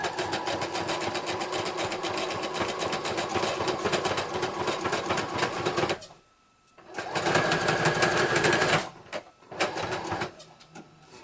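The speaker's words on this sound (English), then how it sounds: "My needle does not like sewing through wet fabric" A sewing machine stitches Velcro onto wet fabric, running in a loud, steady mechanical whir for several seconds, stopping briefly, then starting again in short bursts.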